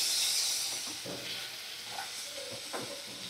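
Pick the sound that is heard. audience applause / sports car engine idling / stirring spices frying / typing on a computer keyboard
stirring spices frying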